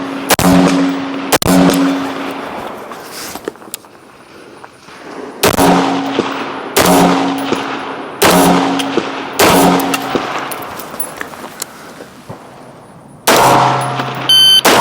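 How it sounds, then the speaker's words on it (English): A 6mm competition rifle fires at a DMR-style match, sharp loud reports rising above the quiet between them, several cracks with echoing tails across the span, no talking. "So same spot, got 2 rounds off."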